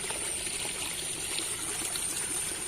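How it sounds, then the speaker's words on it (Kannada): Plenty of water flows through a paddy field, producing a soft, continuous trickling wash that stays even and fairly faint throughout. "ನೋಡಿ ಫುಲ್ಲು ನೀರು ಹೋಗ್ತಾ ಉಂಟು"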